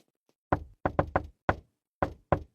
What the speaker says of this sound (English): I got a great knock.